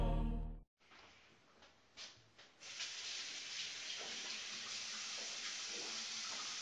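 Water runs from a tap in a steady, loud rush that starts after a brief pause and keeps flowing evenly.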